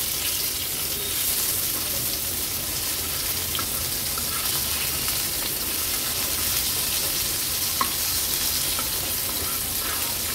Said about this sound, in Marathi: गॅसची फ्लेम मीडियम वरच ठेवते आणि हे बोंबील एका बाजूने व्यवस्थित तळून घेते.